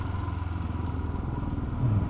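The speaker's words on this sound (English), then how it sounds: "this is me encouraging Tony to overtake this car who was just dawdling along" Motorcycle with a loud exhaust accelerating to overtake a car, its engine droning close and steady before the revs climb and swell louder near the end.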